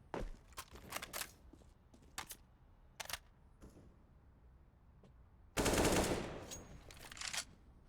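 AK rifle gunfire in a Counter-Strike match at an online cash cup tournament, with sharp single shots and short bursts scattered through the clip, then a louder sustained burst near the end, heard without talk.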